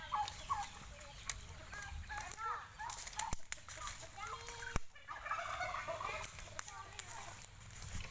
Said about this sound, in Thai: ไก่เยอะแยะเลยนะครับ